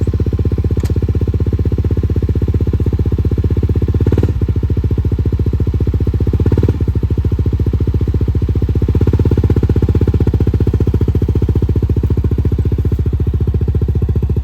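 A Honda CRF250L dual-sport motorcycle runs close by with a loud, even single-cylinder thrum. The engine holds a steady pulse throughout, with a few brief bumps in the note.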